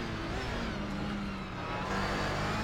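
A racing car engine roars steadily at high revs on track, loud and close throughout, with a slight dip and then a rise in pitch as the driver short shifts up through the gears.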